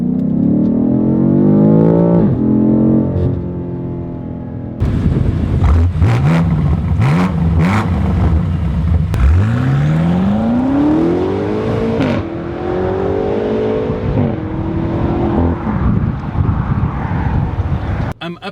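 Heard from inside the cabin in Sports Plus mode, a BMW F90 M5 accelerates hard. The engine note climbs through repeated rising sweeps between gear changes, with loud wind rush and brief speech.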